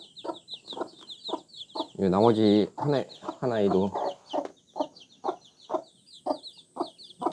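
A mother hen clucks steadily near her chicks, with a run of rhythmic close clucks and two louder, drawn-out calls in the middle, while soft talk in Korean sits underneath.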